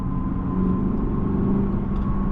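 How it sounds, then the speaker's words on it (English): The naturally aspirated V8 of a 2016 Lexus GS F drones steadily from inside the cabin while driving, a low, even engine hum with a faint road rumble and no voices. "There's nothing like a naturally aspirated V8."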